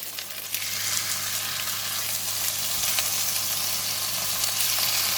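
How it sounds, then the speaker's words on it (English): Beef stir-frying in a pan beside kailan, a loud, dense, continuous sizzle close by with faint stirring, and no voices. "Push the vegetable one side, and I'm going to stir fry the beef."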